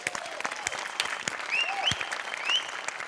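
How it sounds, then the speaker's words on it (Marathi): Audience clapping at a comedy stage show for the set crew, dense steady applause with distinct hand claps nearby and whistles rising over it. "प्रसादा सगळ्यात आधी सेटिंग वाल्यांसाठी जोरदार टाळ्या."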